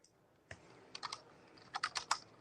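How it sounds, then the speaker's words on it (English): Fingers tap on a computer keyboard in quiet, irregular bursts of close clicks with short pauses between them. "what you typing a book over there, Russ?"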